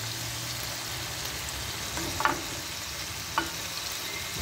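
Kefta mixture frying in a pan for a Ramadan dish, giving a steady broadband sizzle with a couple of brief utensil clinks against the pan, close and alone with no talking.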